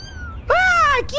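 A cat meows loudly and close, one long drawn-out harmonic cry followed by the start of a second, over a low hum with faint background noise.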